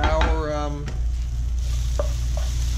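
Onions that have softened for about ten minutes in olive oil fry in a pan as a steady, close sizzle. A short stretch of talk comes at the start, followed by a couple of faint clicks.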